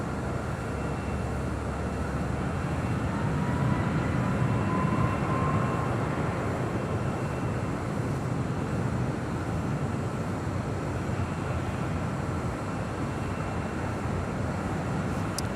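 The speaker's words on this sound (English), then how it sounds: "That is Delta heading to Kahului in the 767-300ER." A Delta Boeing 767-300ER jet departing LAX makes a steady, broad, distant roar that holds evenly from start to finish.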